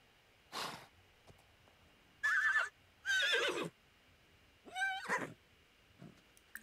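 A horse whinnies several times in short, shrill bursts in the video game The Sims 4, separated by pauses, with a quiet background.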